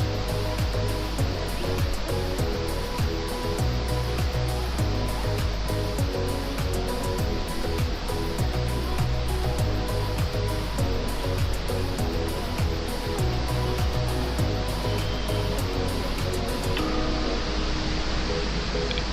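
Ouzoud waterfalls in Morocco, a constant, full roar of falling water, loud and unbroken throughout with no voices.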